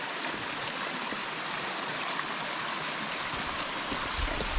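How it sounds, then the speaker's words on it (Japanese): A waterfall on a mountain trail up Mount Sentsu, on the Shimane–Tottori border, gives off a continuous, even rush of falling water. It sounds fairly near and holds steady throughout with no talking. "おお、滝がある"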